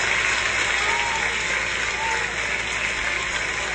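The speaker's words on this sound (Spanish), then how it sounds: "Voy a pedir un fuerte aplauso a la gente del estudio." Studio audience breaks into steady applause on a live talk show, a dense, even clatter of clapping held at a constant level throughout, with faint voices mixed beneath.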